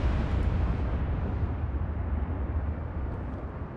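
Heavy battleship guns in Ultimate Admiral: Dreadnoughts fire flat trajectories at distant targets, heard as a continuous deep rumbling roar of broadband blasts that stays loud throughout with no talk over it.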